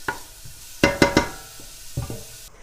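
Onions softening over moderate heat in a pan while cucumber relish is prepared, heard as a low sizzle broken by a few clattering stirs and scrapes, close and fairly quiet, with no talking.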